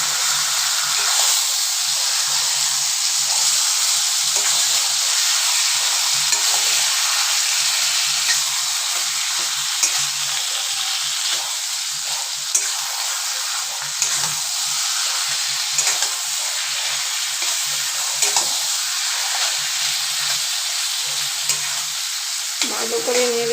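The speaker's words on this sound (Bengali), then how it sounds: "এবার দিয়ে দিব আমি কচুটা, এই যে সিদ্ধ করে রাখা কচুটা।" Boiled taro fries in a pan with a loud, constant hissing sizzle, broken by frequent scraping and stirring strokes of a spatula, close and with no voices throughout.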